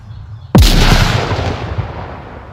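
A frag grenade blast in the Onward VR shooter: one sudden loud boom that hits at once, then a long rumbling decay with scattered crackle.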